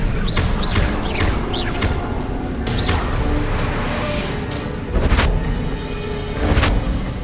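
Spell-casting effects from the Hogwarts Legacy video game, with an Expelliarmus cast amid loud, dense battle noise: sharp whooshing swishes and booming impacts, with heavier bursts near the end.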